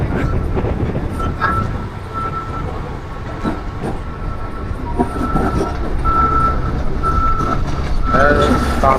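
Mumbai local train pulling into Kurla station, a loud steady rumble of rolling carriages with clanking and squealing tones and high brake screeches near the end, a voice talking over the din throughout.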